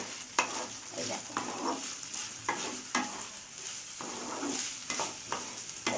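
Capsicum and onion lightly sautéing with fried chicken in a pan, a steady sizzle under repeated sharp scrapes and taps of a spatula stirring, close and clear, no talking.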